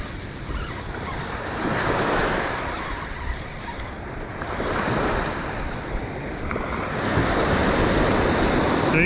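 Ocean surf rolls in on a beach during fishing, with waves breaking in repeated surges every few seconds and a constant roaring wash mixed with wind buffeting the microphone.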